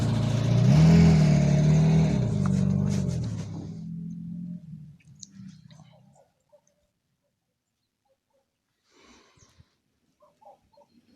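A car driving away from the shore toward a village in a nature reserve, loud and close at first, then fading out over several seconds, followed by faint distant rustles and bird sounds.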